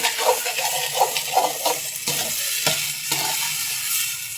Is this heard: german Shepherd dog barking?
no